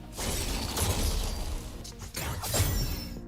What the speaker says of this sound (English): And the other one is the anime sword shing.